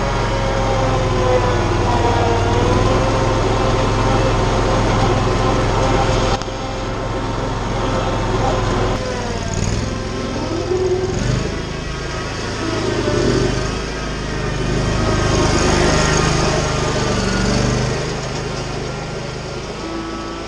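John Deere Z810a zero-turn mower engine runs steadily while the mower is driven, a loud continuous mechanical drone with shifting tones and no talk.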